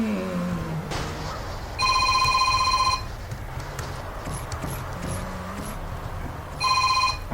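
A telephone rings in two separate bursts, each about a second long, loud and electronic, with a quiet background and faint high chirps between the rings.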